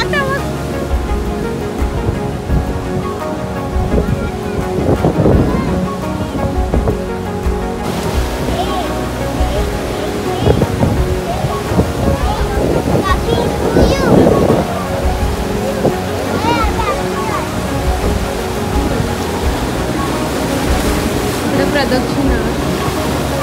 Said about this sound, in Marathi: एवढे मोठे लाट आहेत बघ, बाप रे